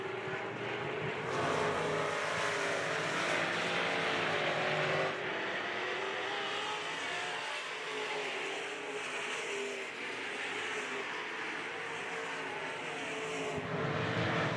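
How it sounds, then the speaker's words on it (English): IMCA modified race cars roar down the backside of a speedway in a feature race, a steady loud engine drone with shifting pitch as the cars pass, no talk. "Hatch working on Hill off of 2 and down the backside of the Speedway."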